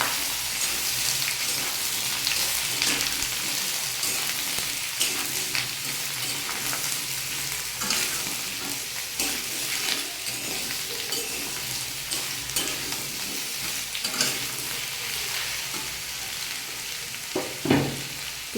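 Papaya, potato and taro stolon pieces frying in a pan with nigella seed tempering, a continuous loud sizzle with occasional stirring scrapes throughout.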